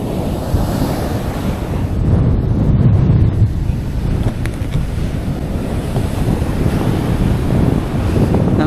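Ocean waves rolling onto Anderby Creek beach, a loud continuous roar of surf with heavy wind buffeting the microphone throughout and no voices.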